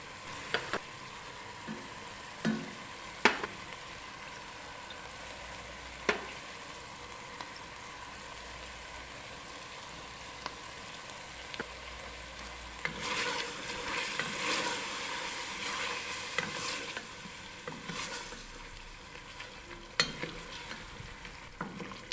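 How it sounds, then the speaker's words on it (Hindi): Mutton browns with spices in a pot, giving a soft continuous sizzle broken by scraping stirs and clinks, quieter at first and busier toward the end. "गोश्त मसालों में अच्छी तरह भून चुका है"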